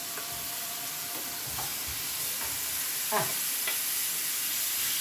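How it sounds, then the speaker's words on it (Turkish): Steady sizzle of vegetables sautéing in hot oil, with occasional scrapes of a utensil stirring the pan, continuous and close. "Şu şekilde soteleyeceğim onu"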